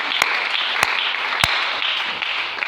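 A church congregation applauds, a dense sustained wash of clapping with three sharp louder claps standing out near the front.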